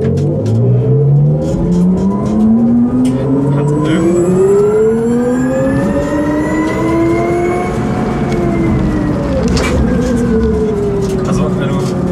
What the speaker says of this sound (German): Also wenn du langsam losfährst, so hat es so ein bisschen was von einem V8.